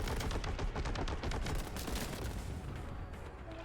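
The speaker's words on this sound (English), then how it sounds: "So now I have a heavy bolter." A heavy bolter in the Warhammer 40k Boltgun video game fires a rapid, rhythmic burst of heavy shots, loud and close, with a rumbling tail that fades over the last second.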